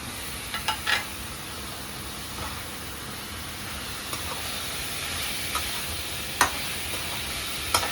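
Chopped onions frying with minced meat keema in a pan for stuffed bitter gourd, a steady soft sizzle and hiss with a few light stirring scrapes and clicks, no talk over it.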